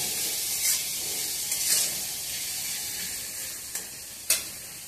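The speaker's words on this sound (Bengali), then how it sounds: "শুটকি মাছটা দিয়ে দিলাম, এটাকে ভালো করে" Dried fish frying in a pan, a steady sizzling hiss throughout, with a few brief sharp scrapes and clinks of a spatula as the fish is stirred, with no talking.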